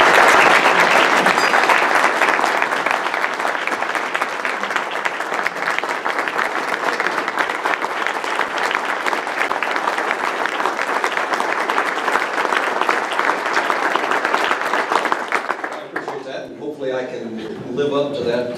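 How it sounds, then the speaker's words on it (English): A Rotary club audience gives sustained, loud applause after a speaker's introduction, a thick continuous roar of clapping that fades out near the end as a voice begins. "Live up to that introduction and the nice applause there"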